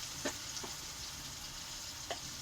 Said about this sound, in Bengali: তোমার তেলটা গরম হয়ে গেছে, আমি পেঁয়াজ, রসুন, আদা এখানে আমি দিয়ে দেওয়া হলো